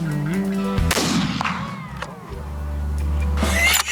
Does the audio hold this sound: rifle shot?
yes